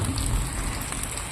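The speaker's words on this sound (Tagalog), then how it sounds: "umulan ngayon" Steady rain falls on an outdoor surface, a dense continuous patter of drops with a constant hiss that holds at an even level through the short stretch.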